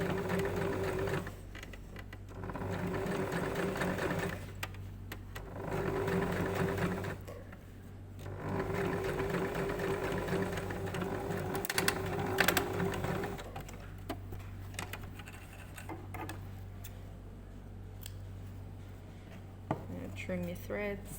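Sewing machine top-stitching a corset seam a foot's width from the seam, running in steady bursts of rapid mechanical stitching with brief pauses between runs, close and fairly loud throughout.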